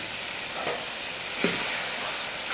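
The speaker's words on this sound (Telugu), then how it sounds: "ఇది మంచిగా కలుపుకొని" Mutton curry with cucumber and chili powder stirred in a pan, giving a steady sizzling hiss with a couple of soft scraping strokes of the spoon, close and alone.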